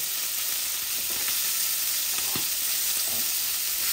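Medium-sized hilsa fish pieces frying in a pan, a bright steady hissing sizzle close by with a few soft pops and stirring touches, alone without voices.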